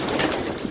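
Janssen racing pigeons coo in a loft, a soft, close, continuous burble of several birds with no talking.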